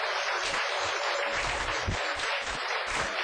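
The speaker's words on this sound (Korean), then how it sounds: "큰 박수로 앞으로 모시도록 하겠습니다." Lecture audience clapping steadily to welcome a guest lecturer, a dense even patter of many hands at moderate, fairly distant level.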